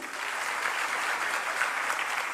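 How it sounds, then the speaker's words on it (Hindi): Steady, dense applause from an audience at a Hindi-speaking award ceremony honouring meritorious students, broad and even throughout with no voices standing out. "इनकी मेहनत के हिसाब से तालियां बजाइए।"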